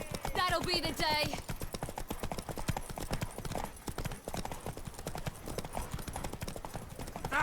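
Horse hooves clip-clopping in The Witcher 3 video game, a steady rhythmic trot of sharp hoof knocks running throughout, with a horse neigh near the start and voices speaking over the hoofbeats.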